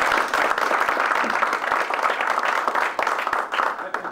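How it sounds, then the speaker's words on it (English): A breakfast-briefing audience at a mediation Q&A gives a round of applause, close and loud with distinct individual claps in a dense irregular patter that begins to thin toward the end. "Just a round of applause."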